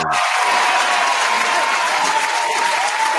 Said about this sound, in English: Round of applause for Dre Star and MOMAKKI for coming in